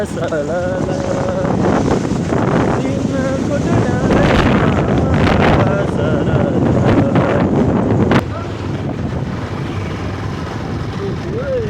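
Strong wind roars and buffets the microphone during a motorbike ride on a muddy road, loud and continuous with an engine rumble beneath, and a voice talks over it.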